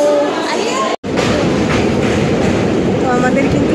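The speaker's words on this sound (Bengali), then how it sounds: "তো আমাদের কিন্তু ট্রেন ছেড়ে দিয়েছে, ঠিক আছে?" A passenger train rolls along steadily with a loud, continuous rumble and faint rhythmic wheel clatter on the rails, briefly cut by a short dropout, and a voice is heard at times.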